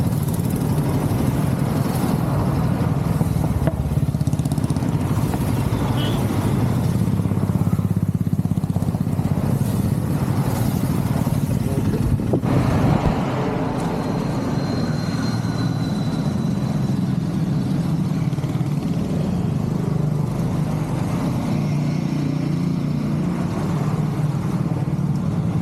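Royal Enfield motorcycles ride in a single-file convoy from Nagercoil toward Pachipparai dam, their engines a continuous low thrum with steady wind rush throughout, the rumble easing slightly partway through.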